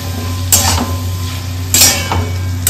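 Metal spoon scraping and clinking in a pan as cauliflower is stirred into spice masala, two or three distinct scrapes over a steady low hum, close and moderately loud with no talking.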